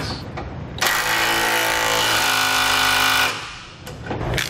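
A power impact tool drives and tightens a bolt with a socket while a Curt trailer hitch receiver is mounted on a 2008 Ford F-150, a loud close rattling burst lasting about two and a half seconds.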